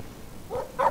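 A dog in the video game Life is Strange gives two short barks, the second louder and fuller, over a quiet background.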